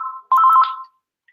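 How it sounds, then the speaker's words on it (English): A phone rings with a bright electronic tone: one short burst, a brief gap, then a louder warbling burst that cuts off, close and clear with no talking. "Look how happy I get when the phone rings."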